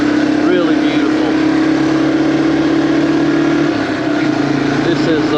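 Yamaha TW200 motorcycle riding a curvy stretch of Route 209 near Hot Springs, its steady engine drone blending with wind rush throughout, a rider's voice talking over it.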